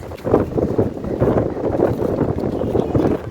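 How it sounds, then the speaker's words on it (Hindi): A strong outdoor wind buffets the microphone with a steady low roar and rumble that surges unevenly throughout. "तेज़ हवा चल रही है"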